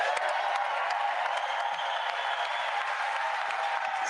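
Strong, sustained applause from a crowd of members of Congress as the President of the United States is introduced at the State of the Union, dense steady clapping at even loudness throughout.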